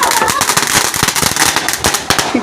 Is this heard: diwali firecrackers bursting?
yes